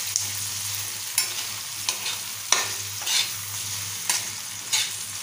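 Chopped tomatoes sauté on a tava for a prawn masala, with a constant close sizzle and several distinct spatula scrapes spaced about a second apart, and no one talking.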